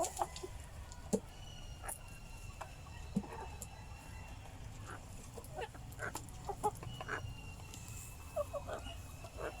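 Rhode Island chickens clucking at a farm where mixed feed is given, a steady scatter of short clucks and calls against a busy background, with faint distant crowing.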